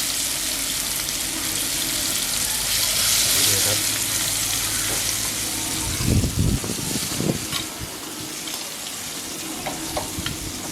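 Shrimp frying in hot oil in a pan for a Thai curry-powder shrimp stir-fry: steady loud sizzling and bubbling throughout, with a few clattering stirs partway through and a voice talking over it.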